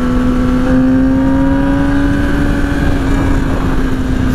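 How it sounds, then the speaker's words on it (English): A rebuilt, previously wrecked 2009 Yamaha R6 with a loud exhaust runs on a test ride, giving a close, loud, steady engine drone that holds an even pitch from start to finish, with no talking. "The exhaust is pretty loud."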